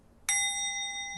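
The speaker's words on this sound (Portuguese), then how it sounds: "Vou dar um sininho aqui." A small meditation bell struck once gives a clear, bright ding that rings on with a long, steady sustain in an otherwise quiet room.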